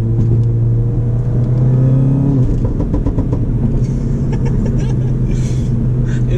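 Stage 2 VW Golf R with manual gearbox revs up close by, its exhaust giving a steady low rumble with a few scattered burbles and pops as the engine rises and settles.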